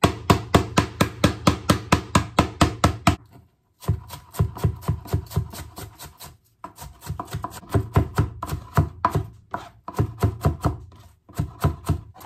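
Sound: crushing food with a knife

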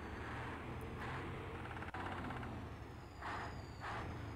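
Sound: truck climbing a slope in mobile game Heavy Tires

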